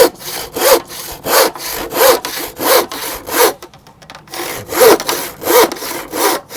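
A handsaw cuts through timber in a steady rhythm of about ten close, loud rasping strokes, with a brief pause partway through.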